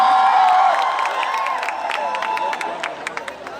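Students at a University of Lucknow centenary celebration cheer and hoot loudly in a mixed crowd roar, with a high whooping voice at the start and scattered claps sounding through the din.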